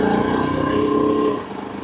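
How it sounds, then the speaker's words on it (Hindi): A Yezdi Adventure motorcycle engine runs at a steady, loud, close idle with a rapid, even pulsing thrum, then the note drops and softens slightly near the end. "करते हैं अपनी बाइक को स्टार्ट। एकदम ईजी स्टार्ट हुई है हमारी बाइक।"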